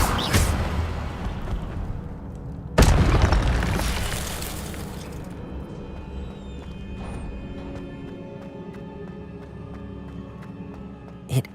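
An Incendio fire spell is cast in Hogwarts Legacy, a loud fiery burst with a second boom close behind it, each fading into a low, lingering crackle over quiet game ambience.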